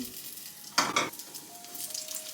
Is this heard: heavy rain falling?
no